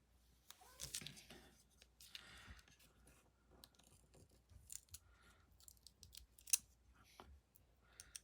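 Scissors snip through regular-size adhesive foam dimensionals for papercraft, giving repeated short, close crisp cuts scattered irregularly, with quiet talk between them.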